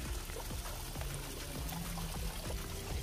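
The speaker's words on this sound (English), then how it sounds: "This is the waterfall." Water pouring and splashing steadily from a waterfall feature at the entrance of a five-bedroom townhouse, a continuous close rushing wash with faint low rumble and no voices.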